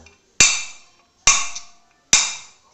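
Three sharp metallic clicks about a second apart as a Yamaha RX King motorcycle engine part clicks into place during assembly, each ringing briefly before fading, close and fairly loud.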